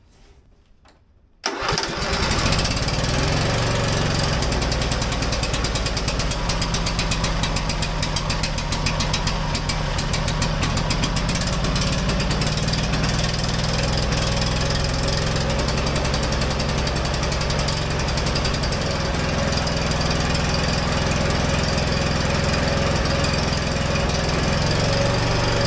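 John Deere lawn mower with electrical problems starts abruptly after a quiet moment and then runs loud and steady, a close, continuous rough engine drone with no talk.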